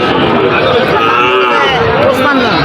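Sahiwal cattle at a rain-soaked cattle market, with a drawn-out moo rising over steady rain hiss and the babble of a crowd talking nearby.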